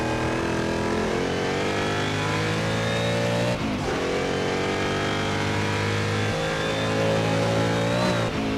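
Historic sportscar race engines in the Assetto Corsa racing game, including a Porsche, roar loudly and continuously, with one sharp dip in the engine note partway through before the revving climbs again.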